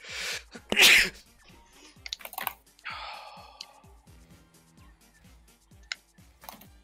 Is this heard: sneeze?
yes